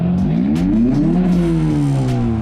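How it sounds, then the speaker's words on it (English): A car engine revs loudly up and back down, its rough idle carrying a faint rapid lifter tick from the front, caused by the cam. "That lifted tick in the front though, that's because of the cam."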